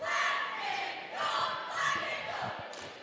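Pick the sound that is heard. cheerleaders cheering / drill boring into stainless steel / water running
cheerleaders cheering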